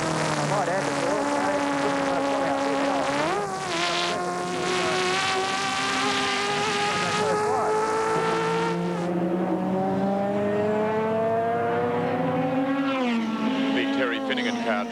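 A 1982 race car on Bathurst's bumpy Mountain Straight roars loudly, its engine pitch climbing then dropping with each gear change, running continuously under a commentator's voice.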